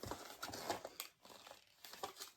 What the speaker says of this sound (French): J'ai arraché l'emballage pour vous montrer